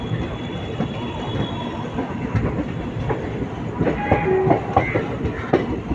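Howrah Prayagraj Vibhuti Express train running along the rails near Patna, a steady loud rumble with rhythmic clickety-clack wheel beats and brief high wheel squeals toward the end, no voices.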